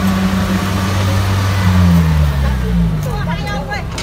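A motorbike engine drones steadily while pulling a cart loaded with harvested rice on a farm, its low mid-pitched hum rising slightly in pitch midway, with faint background voices around it.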